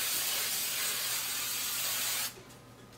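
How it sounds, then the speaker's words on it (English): Hairspray hisses onto the back of a Star Wars sandtrooper helmet in a steady, close aerosol spray for about two seconds, then stops, followed by a brief knock. "I'll apply some hairspray to the back."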